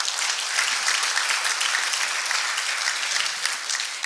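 Loud, close applause at a panel discussion, a dense and constant patter of many hands clapping without a break for the full few seconds.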